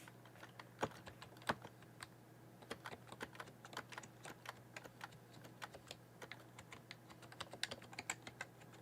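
Keys clacking on a Logitech K350 keyboard, a run of sharp, close, irregular taps with brief pauses between bursts over a faint steady electrical hum, no voices.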